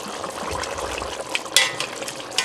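A pot of shredded beef and rice bubbles and sizzles steadily at close range, a continuous crackling simmer with a brief sharper pop near the end and no talking.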